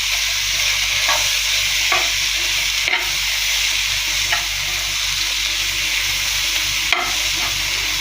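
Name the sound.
okra stirred and frying with masala in pan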